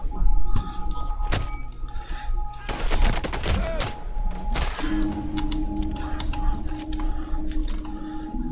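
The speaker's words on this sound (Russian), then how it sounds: "Даже не знаю, услышали выстрелы твои," Gunfire in the video game Sniper Ghost Warrior 3, a few sharp shots and bursts standing out over a continuous game ambience, fairly loud and close.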